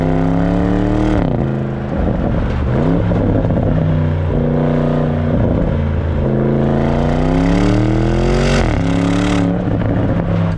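A 550 PS Porsche Cayenne Turbo Coupe accelerating hard, loud engine roar climbing in pitch through several gears with brief dips at each shift, heard close up with no talking.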